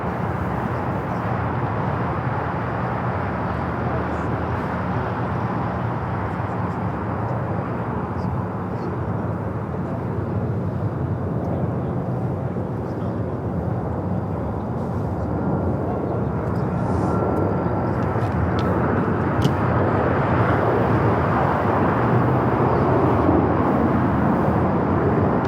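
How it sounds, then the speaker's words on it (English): A United Airlines Boeing 737 MAX 8 departs from runway 25 right at Los Angeles International Airport, giving a steady, loud jet engine roar that swells slightly toward the end with no talk over it. "That is United Airlines 1990 taking off to Austin, Texas on the MAX 8."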